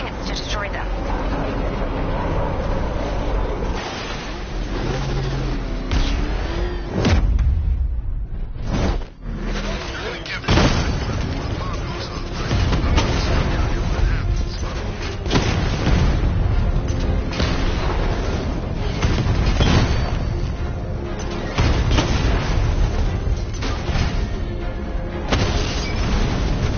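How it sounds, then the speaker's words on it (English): 60mm cannon fire and explosions in a video game, heavy booms and rumbling blasts repeating over a loud continuous din, with spoken voices over the action. "Your 60mm cannon will penetrate these heavily armored units, but it'll take a few direct hits to destroy them."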